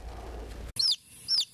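A young domestic chick with yellow and black down gives two clear, high chirps, close and alone against a quiet indoor background after a brief soft rustle.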